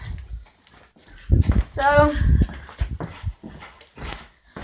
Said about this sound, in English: Let our dogs back in.